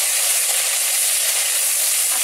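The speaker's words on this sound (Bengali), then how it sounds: "মাছের মাথা ভেজে নিচ্ছি" Fish heads fry in a pan while a village lunch is being cooked. A steady, loud, bright sizzling hiss fills the whole stretch, with no voices.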